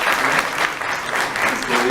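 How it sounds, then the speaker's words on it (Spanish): Audience applause at a literature and theatre session of an Argentine writers' event, a dense, loud, continuous wash of clapping with no pauses. "así que le demos un aplauso"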